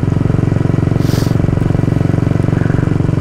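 A Bullet motorcycle rides along a road past fields and small houses early in the morning. Its engine gives a loud, steady, thumping pulse that continues unbroken throughout.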